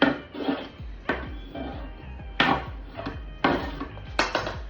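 A pan knocks and clatters several times as it is moved and vegetables go in, with sharp metallic clanks at irregular intervals over a low sizzle. Cooked meat, tomatoes, peppers and spinach are in the pan.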